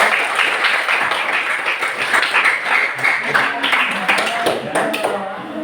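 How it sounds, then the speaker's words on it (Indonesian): Students in a classroom clap their hands in a continuous, lively patter of many hands, with voices and chatter mixed in throughout. "Luar biasa, tepuk tangan."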